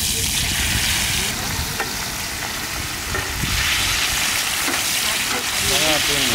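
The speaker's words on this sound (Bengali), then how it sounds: "তেল গরম হয়ে গেছে আর মাছটা দিয়ে দিলাম।" Rohu fish fries in hot oil on a heated tawa during outdoor mountain-style cooking, giving a loud, continuous sizzle and crackle with scraping stirs and some background noise.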